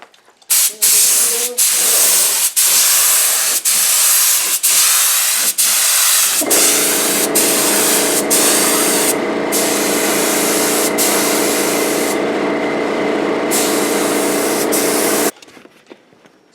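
A spray gun applies epoxy resin to the inside of a wooden soaking tub built from recycled lumber, making loud, close hissing bursts that stretch into one long continuous spray before cutting off abruptly.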